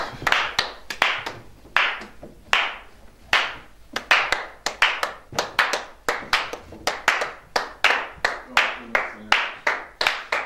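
A church congregation clapping in acclamation of Jesus at a prayer service, roughly twenty crisp, uneven bursts of hand claps, irregular and spread across the room, fairly close.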